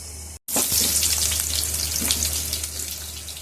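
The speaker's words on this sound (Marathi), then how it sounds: "तोपर्यंत आपण कांदा कढईमध्ये टाकून घेऊया।" Onion hits hot oil in a kadhai and bursts into a loud, steady sizzle that crackles on without pause after a brief silent gap at the start.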